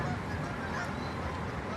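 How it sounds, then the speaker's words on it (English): Canada geese honking directly overhead outdoors, a loud steady chorus of calls filling the whole stretch with constant outdoor noise beneath. "there's some Canada geese right above me"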